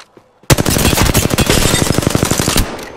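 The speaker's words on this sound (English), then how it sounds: "I am taking fire, friends." Automatic weapon fire in the Apex Legends shooter game: a loud, sustained burst of rapid shots that starts abruptly after a short quiet lead-in and runs steadily for about two seconds before cutting off.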